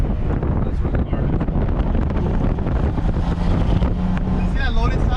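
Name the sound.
Mercedes W205 C63S AMG engine sound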